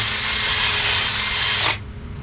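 A power drill fitted with a Phillips head bit grinds the ridge out of a cut brake line end before flaring. It is a loud, close, high-pitched whine lasting under two seconds, then cutting off abruptly.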